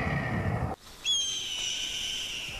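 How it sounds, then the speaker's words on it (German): A red-tailed hawk screech: after a noisy burst and a brief gap, a piercing, high, drawn-out cry rings out loud and close, then holds steadily to the end. "das Kreischen eines Rotschwanzbussards durch das Kreischen eines Adlers zu ersetzen"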